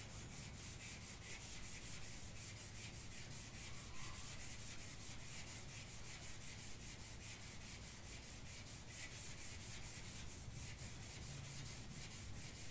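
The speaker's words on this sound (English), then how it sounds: "we're blocking this primer down first because there's a little bit of a low area here" Sanding block rubbing primer on a car body panel during scratch repair, a steady rhythmic back-and-forth scraping, close and continuous with no talk.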